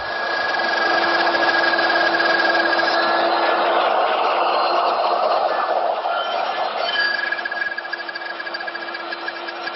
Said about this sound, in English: Then using my router, which is equipped with a dovetailing bit and this little collar, if I run the collar between this narrow section, I'll cut out the material for the pins